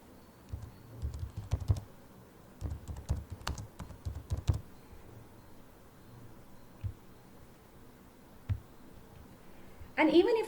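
Keys clatter on a computer keyboard in quick bursts as a location is entered, soft and fairly close, mixed with a speaking voice and followed by a brief louder noise at the end.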